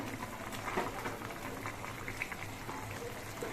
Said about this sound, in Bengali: এবার আরও কিছুক্ষণ ঝোলটা ফুটিয়ে নিতে হবে